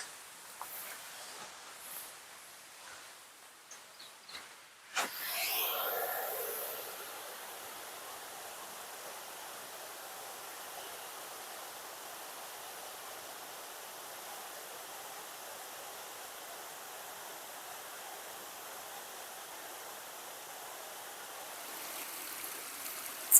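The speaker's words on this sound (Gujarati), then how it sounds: "કેવું ફર્સ્ટ ક્લાસ પાણી આવી રહ્યું છે" Water flows steadily at Bagad dam, a soft continuous rushing that settles in after a brief bump and stays even throughout, faint and unbroken.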